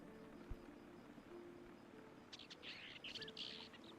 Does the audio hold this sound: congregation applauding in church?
no